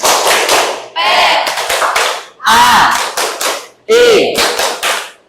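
A group of children in an Islamic religious-education class claps in a rhythmic pattern, the sharp clap sequences coming in several bursts and mixed with chanting voices.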